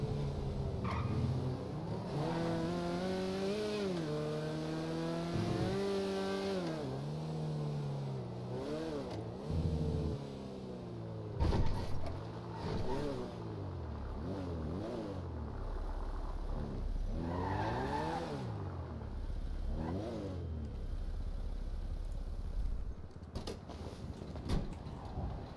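A car driven in GTA roleplay revs and shifts continuously, its engine pitch rising and falling in repeated sweeps, with occasional tire skids and mechanical clunks, loud and steady throughout.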